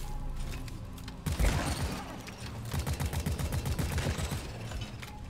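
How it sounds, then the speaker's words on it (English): Rapid bursts of gunfire in a shooting video game, starting after a quiet second then rattling on in dense, repeated volleys with heavy low thumps, loud and close, with no voices over the shots. "Look at all that pro shooting."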